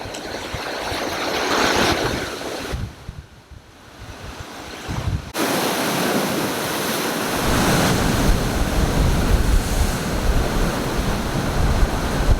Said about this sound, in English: The tide is coming up, so we got to be very mindful of the splashing